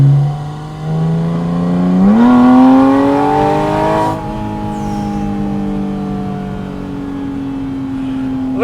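A Porsche Spyder RS engine revs up as the car accelerates, its tone climbing sharply through the gears and then holding at a high, loud, close, sustained pitch with no talking.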